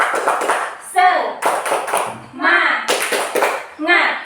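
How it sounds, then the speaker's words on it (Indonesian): An elementary school class does a rhythmic spirit-clap cheer. Loud, close chanting voices are punctuated by short bursts of clapping in a repeating pattern. "Tepuk semangat."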